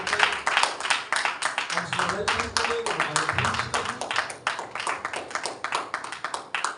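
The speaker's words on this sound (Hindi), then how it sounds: "पिता पुत्र पवित्र आत्मा के लिए जोरदार तालियां" Congregation at a Christian service giving loud applause for the Father, Son and Holy Spirit, a dense, steady wash of many hands clapping throughout, with a voice speaking over it in the middle.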